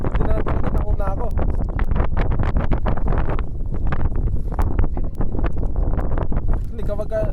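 Strong outdoor wind buffets a phone microphone in a garden, a continuous loud rumble that runs the whole time, with brief crackles and faint voices beneath it.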